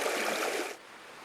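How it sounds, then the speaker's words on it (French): Fast-flowing water of the Mayenne river rushes with a broad, steady hiss that drops off abruptly partway through, leaving a quieter wash of flow behind, with no talk. "on peut se rendre compte que la rivière a un fort débit et est assez large"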